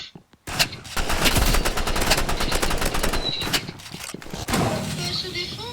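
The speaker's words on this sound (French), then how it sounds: "J'ai un fusil à pompe." Rapid gunfire in a video game, dense loud bursts of shots crackling almost continuously for several seconds with brief gaps, played close with no clear talk over it.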